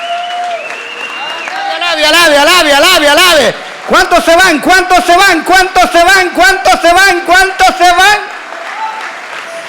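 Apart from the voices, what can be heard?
church congregation clapping hands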